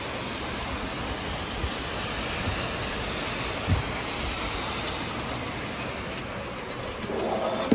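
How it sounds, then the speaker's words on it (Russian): Steady heavy rain hisses evenly throughout, a dense wash of sound with no voices. "какой дождь у нас идет"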